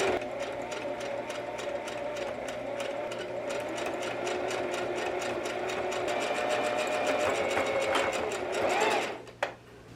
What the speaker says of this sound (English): I'm trying to sew the cords for the ribbon on the bag